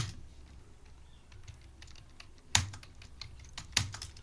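Keys tapped on a computer keyboard while entering a contra voucher in TallyPrime accounting software: soft, scattered close clicks with two sharper, louder Enter presses standing out near the end.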